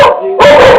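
A dog named Gédéon lets out a single loud, close bark that holds into a longer yelping howl, alone with no talk over it.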